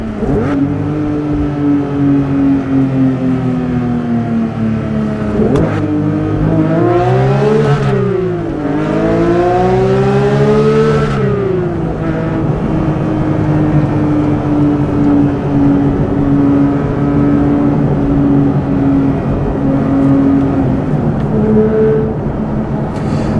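A loud Porsche 911 GT3 4-liter flat-six engine revs repeatedly, rising and falling sharply in pitch before settling into a sustained high drone, close and powerful, with no talking.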